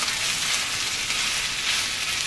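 Chopped capers and olives sizzle in a hot pan while being mixed. The frying hiss is close and steady, with no voices over it.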